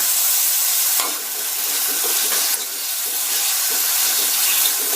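Tomatoes and onions sauté in a pan for sambar, giving a steady, close sizzle and hiss with the occasional scrape of stirring, with no voices over it.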